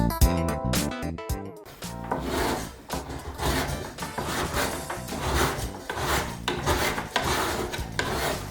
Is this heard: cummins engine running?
no